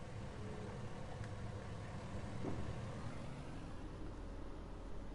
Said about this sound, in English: Sounds like a tractor.